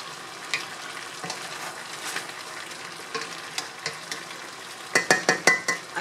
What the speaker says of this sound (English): to allow it to simmer nice and slow and let all the flavor kind of incorporate